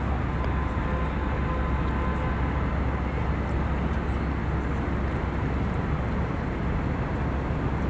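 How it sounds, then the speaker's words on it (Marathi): Steady broadband roar of an airplane cabin in flight above the clouds, a constant loud engine and air rush with no breaks and no talk. "आमचं विमान आता चालू झालं आहे"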